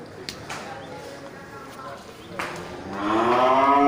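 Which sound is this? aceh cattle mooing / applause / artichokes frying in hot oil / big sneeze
aceh cattle mooing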